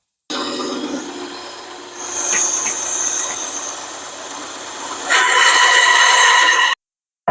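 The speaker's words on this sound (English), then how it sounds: "And I just do it on my little bandsaw." A small bandsaw cuts a bevel in wood: a steady, loud whining rasp that runs for several seconds with a brief swell in the middle, then rises in pitch and intensity near the end before cutting off.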